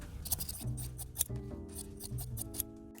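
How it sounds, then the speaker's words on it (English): Scissors cut fabric pieces for a surgical mask cover, with close, crisp snips and soft rasping slides of the blades through cloth, repeated several times at an irregular pace. "I'm cutting them out now."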